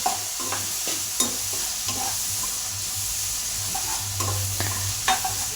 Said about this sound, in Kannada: ಇದು ಎರಡು ಈರುಳ್ಳಿನೂ ಬೇಯಬೇಕು ಮತ್ತು ಟೊಮೊಟೊನೂ ಬೇಯಬೇಕು ನೀಟಾಗಿ ಫ್ರೈ ಮಾಡ್ಕೊಳ್ಳಿ